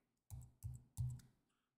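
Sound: computer mouse clicks in Adobe Illustrator

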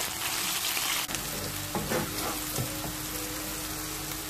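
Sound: frying onion paste with whole spices in a pan

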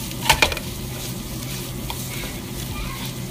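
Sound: chicken and spices frying and stirred in oil in a pot

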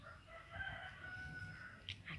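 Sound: blirik rooster crowing

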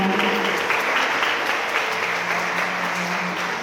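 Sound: applause at a wedding

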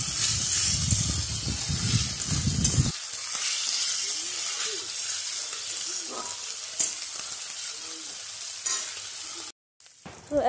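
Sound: onions frying in a pan

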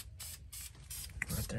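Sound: spray paint being sprayed on an F150 truck

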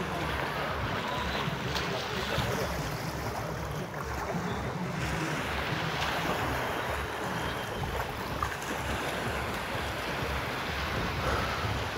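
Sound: banana boat towed at sea near the beach

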